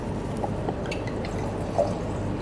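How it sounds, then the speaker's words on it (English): Mudhouse wine trickles into a glass during a wine tasting, a soft steady liquid pour with a few faint splashes and no talking. "in the second glass pour the Mudhouse"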